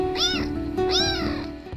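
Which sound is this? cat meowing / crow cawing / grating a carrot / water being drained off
cat meowing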